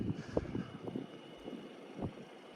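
Gusty wind buffets the microphone in low rumbling bursts over a constant hiss, with no one speaking.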